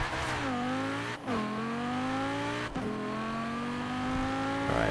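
A car engine in Forza Horizon 4 holds a steady, loud revving drone throughout, its pitch climbing slowly, with two brief dips as the gears shift.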